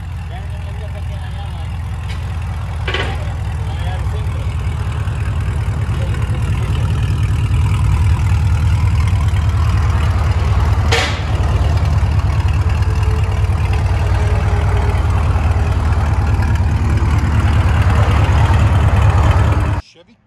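A Chevy Camaro SS with a 6.2L V8 and aftermarket exhaust idles loudly and close, a deep, steady rumble that holds for about twenty seconds before cutting off.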